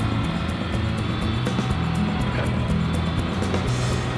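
A backhoe engine runs steadily at a workshop, a loud continuous diesel drone with a throbbing low rumble and no pauses.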